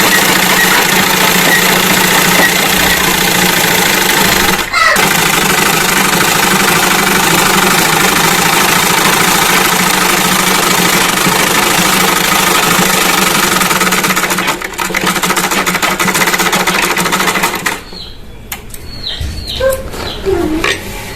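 A sewing machine stitches a baby girl's kurti with a loud, continuous mechanical whir that runs unbroken for most of the time, briefly dips twice, then stops near the end.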